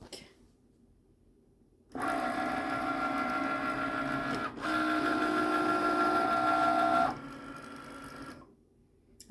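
A Cricut cutting machine cuts out a fabric pattern for a purse, giving a steady mechanical whir and buzz that starts suddenly, briefly dips midway, then continues before tapering to quiet; close and fairly loud, with no talking.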